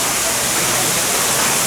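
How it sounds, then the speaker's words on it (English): Steady broadband rush of a waterfall beside a Disneyland ride queue, a continuous close wash of falling water that fills the whole clip without pause. "I appreciate that waterfall"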